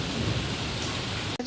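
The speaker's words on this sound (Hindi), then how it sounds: "इतनी तेज़ बारिश हो रही है ना, बाहर फुल अंधेरा है" Heavy rain falls outside before dawn, a dense continuous roar of water that cuts off abruptly near the end.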